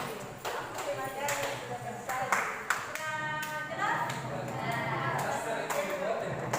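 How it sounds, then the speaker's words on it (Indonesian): A school group claps hands in short bursts of one to five claps, fairly close, with talking mixed in between. "tepuk tangannya 1 kali. Tepuk 2 kali. Tepuk 3 kali"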